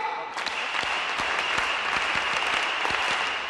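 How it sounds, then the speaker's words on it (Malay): Audience at a 2004 winners' night event giving a rhythmic spirit clap that starts sharply after a brief pause, with steady regular beats rising above a full roar of clapping. "mari kita sama-sama buat tepukan semangat Elkan"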